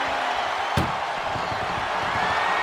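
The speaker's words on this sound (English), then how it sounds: "Trying to force the first door closed." An ambulance door slams shut once, a sharp loud bang during a wrestling ambulance match, over a steady roar of crowd noise.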